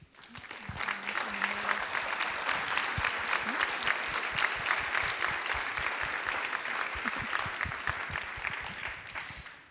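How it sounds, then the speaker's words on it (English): A room full of people at an environmental forum gives a sustained round of applause, dense, even clapping that builds quickly and holds for nearly ten seconds before tapering. "Would those mentioned please stand for a round of applause?"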